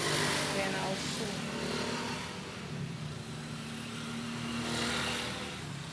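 A sewing machine runs steadily while stitching a side seam pocket into a dress, a continuous close motor whir that stays even throughout, with a voice talking over it.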